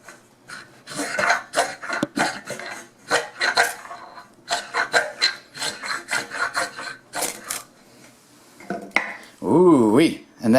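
A ferro rod is struck repeatedly onto Georgia pine fatwood shavings, giving a quick series of sharp, close scraping rasps in bursts, followed by a brief tonal whoop-like vocal sound near the end.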